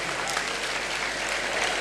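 Audience at an evangelical church debate applauding to welcome a guest, dense steady clapping from a crowd throughout.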